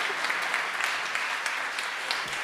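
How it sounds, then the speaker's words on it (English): Live storytelling audience applauding a performer, a steady moderate wash of clapping heard from within the room. "Round of applause for Peter."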